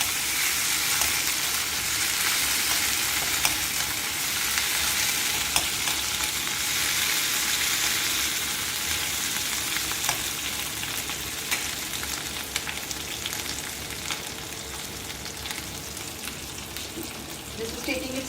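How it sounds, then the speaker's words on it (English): Roasted masala frying in a pan, a steady close sizzle and crackle running throughout with faint stirring. "fry it more."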